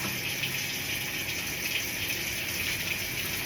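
A tap runs hot water at a mock decontamination, a steady, unbroken rushing flow that holds at a constant level throughout, with no voices.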